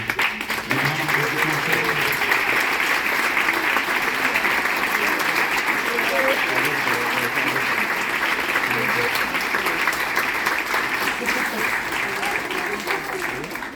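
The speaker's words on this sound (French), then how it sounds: "je vais leur demander de se lever pour qu'on puisse les applaudir" An audience at the ACFA Jean-Paul-Bugeaud award ceremony applauds the standing team, sustained dense clapping filling the hall at an even level for many seconds, with a voice speaking faintly underneath.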